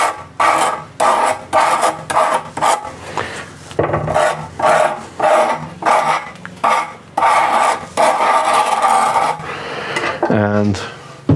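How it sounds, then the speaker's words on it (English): Dividers sharpened with a file in a woodturning shop: repeated rasping strokes, each about half a second, in a steady back-and-forth rhythm, close and fairly loud, ending with a brief clatter. "I need to sharpen the dividers a little bit."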